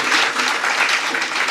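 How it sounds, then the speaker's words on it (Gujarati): Sustained audience applause honoring writer Yogesh Joshi at a Gujarati literary lecture event, a dense, steady wash of many hands clapping throughout with no break. "ખૂબ સન્માનપૂર્વક એમનું તાળીથી અભિવાદન કરીશું"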